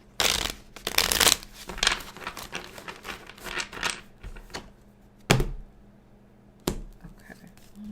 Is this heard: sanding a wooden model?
no